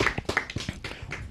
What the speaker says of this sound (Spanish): Un aplauso para nuestra amiga Diana.